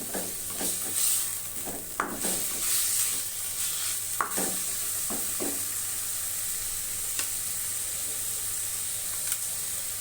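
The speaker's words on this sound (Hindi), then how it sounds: "तो 2 से 3 मिनट के लिए हमने अच्छे से इसमें सौते करना है" Chicken and vegetables sauté in a pan for brown fried rice, giving a steady close sizzling hiss broken by repeated scraping and stirring strokes of a spatula.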